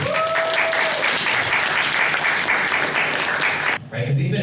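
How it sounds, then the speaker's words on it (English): A room full of students claps together in a loud, dense burst of applause that carries for several seconds, then cuts off abruptly near the end, followed by a short quieter stretch. "Give yourselves a round of applause, please."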